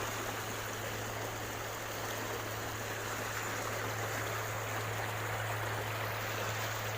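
Creek water in the Sibulan river flows over stones in a steady, continuous rushing babble, close by and unbroken throughout, with no voices heard.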